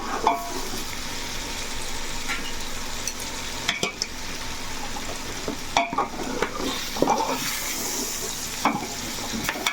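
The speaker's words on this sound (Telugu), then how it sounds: "చక్కగా ఇలా కలిపేసుకొని" A chicken biryani mixture is stirred in a cooking pot, giving a continuous soft sizzle with irregular scraping and clacking strokes of the spoon, close and moderately quiet.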